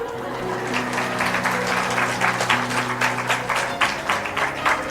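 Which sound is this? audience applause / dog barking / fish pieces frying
audience applause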